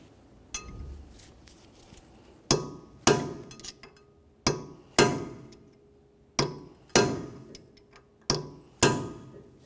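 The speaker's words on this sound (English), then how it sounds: "We need to peen the axle nut into that area." A hammer peens the axle nut into the axle shaft notch of a 1994-1997 Honda Accord 2.2L during a CV axle replacement. The strikes are sharp metallic blows, about eight of them, each with a ringing decay, at uneven intervals after one softer tap.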